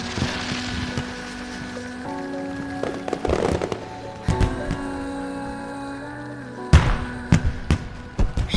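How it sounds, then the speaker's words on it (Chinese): Fireworks burst in a string of sharp, crackling booms at a festive night scene in a Chinese fantasy drama. The explosions are loud and cluster in short volleys over sustained music. "快看烟花！"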